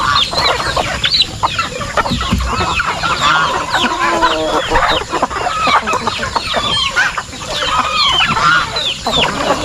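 Turkeys on a farm gobble and cluck in a busy, continuous chorus, close and loud, with other poultry calling through the background.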